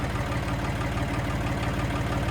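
A heavy diesel loader engine, its boom at full height against the hydraulic relief, chugs steadily with a low, strained rhythmic throb, running continuously without any voices.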